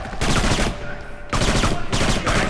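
Rapid automatic gunfire in the video game Kane and Lynch 2, loud bursts of rattling shots in three close volleys with short gaps between them, filling the clip without talk.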